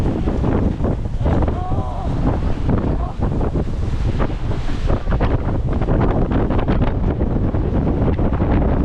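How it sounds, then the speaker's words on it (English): Strong, steady wind buffets the microphone aboard a sailboat on passage in New Zealand, a continuous loud roar, with faint voices mixed in underneath. "How windy it is in here."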